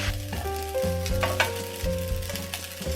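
Fried rice stir-fried in an oiled pan, a bright sizzle with quick tossing scrapes, heard beneath a steady tonal musical backing.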